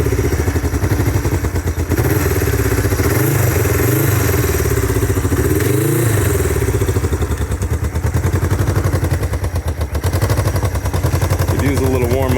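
A 1968 Honda CL450 motorcycle, in need of a new battery, is kickstarted and settles into a loud, close, steady engine run with rapid firing pulses and a couple of revs, with some voice briefly audible.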